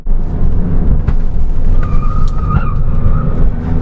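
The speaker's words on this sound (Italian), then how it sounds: "Queste gomme fanno rumore, non mi hanno mai soddisfatto queste Pirelli P0 Nero" Steady low road roar from Pirelli P Zero Nero tyres on a Fiat 500 Abarth, a loud continuous rumble inside the cabin with a brief high squeal partway through and no talking.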